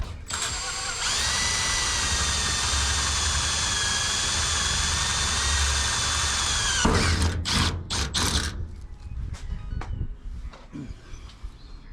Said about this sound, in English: Nice new hot rivet gun.